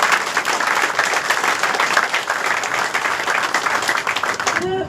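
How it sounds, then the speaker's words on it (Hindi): A crowd at a BJP flag-hoisting event in Delhi claps in loud, dense, sustained applause that carries through the whole stretch before cutting off at the very end. "तो एक बार जोरदार तालियां अपने लिए बजाएं"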